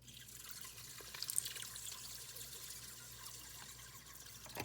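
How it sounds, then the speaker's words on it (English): Milk poured into cooked pasta inside an Instant Pot, a soft steady trickle and splash, faint and close, no voices. "Now I'm just going to add some milk."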